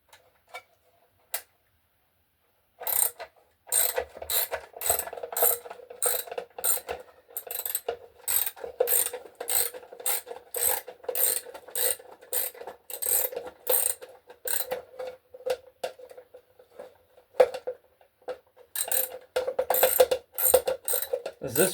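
A ratchet clicks steadily while tightening during teardown of a Maverick 88 12-gauge pump shotgun, a close, rapid run of crisp ticks after a few isolated clicks, continuing with brief pauses.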